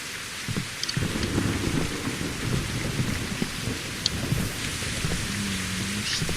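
Heavy rain pours steadily in the video game Survival Postapocalypse Now, with low rolling thunder rumbling underneath and scattered sharper drips standing out over the constant wash.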